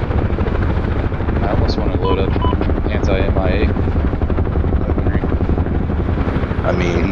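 A UH-1H Huey helicopter flying in DCS World, its loud, close rotor thump and turbine drone running continuously throughout, with people talking over it.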